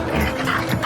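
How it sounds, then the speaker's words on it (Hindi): A cartoon dog barks in an animated Hindi story, giving a few quick, sharp yelps inside a dense, noisy soundtrack. "मैं तब भौंकता हूं जब चोर आता है,"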